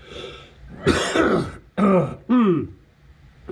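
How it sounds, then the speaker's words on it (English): A few rough coughs and throat-clearing sounds, close and fairly loud, in quick separate bursts with brief pauses between. "I have a cough that won't go away."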